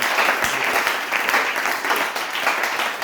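A church congregation applauding at a service, dense continuous clapping from many people in a room, lively and sustained through the short moment.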